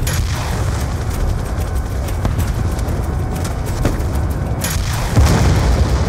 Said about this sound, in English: Enemy tanks are firing on the base.